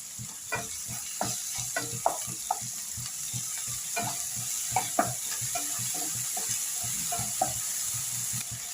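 Ginger garlic paste frying in a pan with tomatoes, a continuous sizzle broken by repeated scraping and stirring strokes of a spoon, close and moderately loud, no voices.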